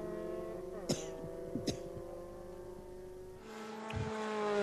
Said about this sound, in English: car 71, that's just crossed in front of us now, is young Timothy Gillespie